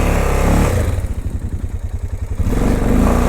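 A 2005 Honda Rincon 650 4x4 ATV engine revs hard in a close, loud burst, pulsing rapidly as the wheels spin, then settles back to a steadier drone.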